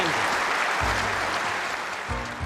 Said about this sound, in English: Victory at 10 frames to 8, and the sportsmanlike Willie Thorne applauds 17-year-old Stephen